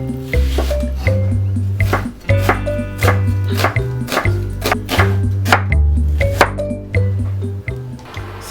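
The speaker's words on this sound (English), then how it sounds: "So chop out onions" Onions are chopped on a board as Nigerian banga rice is prepared, giving a steady rhythm of close, sharp knife taps over loud background music.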